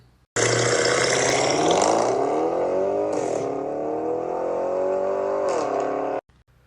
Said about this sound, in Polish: to charakterystyczne pierdnięcie przy zmianie biegu